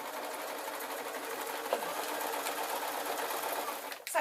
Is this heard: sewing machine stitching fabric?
yes